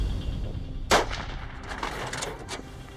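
Rifle gunshot fired at a warthog during a night hog hunt, a single sharp, loud crack followed by a rolling echo and outdoor ambience, no speech.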